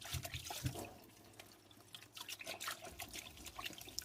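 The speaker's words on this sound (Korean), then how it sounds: "줄기 쪽에 손을 넣어서 미끌거리는 것을 깨끗이 해줍니다." Salted napa cabbage rinsed by hand in a sink of water, soft irregular splashes, drips and sloshing at close range, fairly quiet, with no voices.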